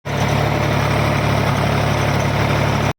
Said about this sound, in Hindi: 8 फीट के रोटावेटर को ट्रैक्टर जो है ना बहुत ही ज़बरदस्त चला रहा है।